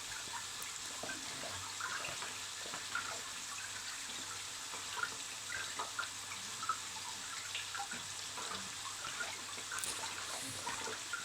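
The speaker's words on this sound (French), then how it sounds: "on va prendre les patates qu'on va passer sous l'eau" Potatoes rinsed under a running kitchen tap, the water falling in a steady, soft hiss with small splashes and drips, close by and continuous for the whole stretch.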